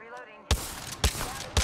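Three sharp, heavy shotgun blasts from Apex Legends fire in a steady rhythm about half a second apart, loud and close, following a brief quiet stretch.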